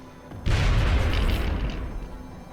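Heavy explosions in the strategy video game Long War Rebalance: a sudden loud boom erupts after a short quiet lead-in, then a dense, rumbling blast with debris slowly decays over the next two seconds, with no voices.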